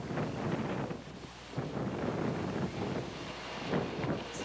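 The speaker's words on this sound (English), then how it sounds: "Oh, it's windy." Steady wind roars across the microphone in low, gusty buffets, continuous and fairly close, with no voices.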